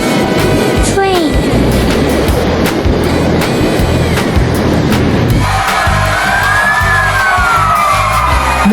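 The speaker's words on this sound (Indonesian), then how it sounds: "Train." A train passes with a loud, continuous rumble and a steady clatter throughout, and a high squeal or horn-like tone rises briefly near the start.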